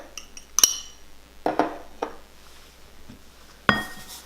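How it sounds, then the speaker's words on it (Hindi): A spoon clinks against a mug while flour, cocoa powder, baking powder and sugar are mixed for an eggless mug brownie, giving a few sharp, separate ceramic taps with quiet scraping in between. "अच्छी तरह से इस मिक्सचर को मिक्स कर लेंगे।"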